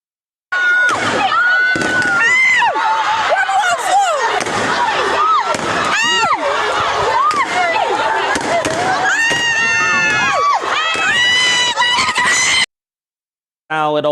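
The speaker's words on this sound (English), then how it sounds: "here are excerpts of the police attempting to disperse the crowd" Police dispersing a crowd on a campus, loud chaotic shouting and screaming from many people with sharp bangs and whistling tones mixed in, continuous and close before cutting out near the end.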